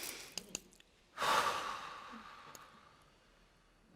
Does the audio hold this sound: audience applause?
no